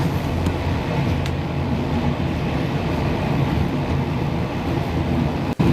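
Train rolling along rails on a long rail journey to Skopje, a steady loud low rumble with faint clicks and one sharp knock near the end, no voices.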